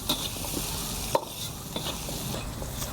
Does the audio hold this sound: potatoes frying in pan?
yes